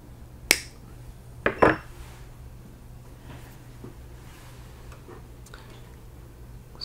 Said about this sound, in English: So I'm just going to trim the end off a little bit.